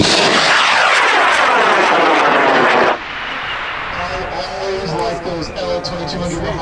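A high power rocket on an L2200 Mojave Green motor launches at a large outdoor rocket launch event, a loud roaring whoosh with a sweeping doppler-like tone that cuts off abruptly, then a softer rumble as it climbs, with people talking.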